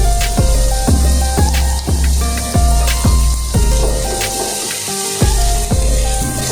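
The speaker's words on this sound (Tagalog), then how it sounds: "Gisa natin ang sibuyas." Onions sauté for soup in a hot pan, loud close sizzling and crackling with regular sharp clacks and scrapes from stirring, heard alone without talk.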